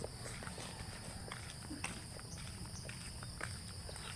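Footsteps on an early-morning walk to buy pandesal tap softly and regularly at close range, set against a faint outdoor background with a steady insect-like high hum.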